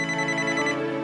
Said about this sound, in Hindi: अब मेरा फोन बज रहा है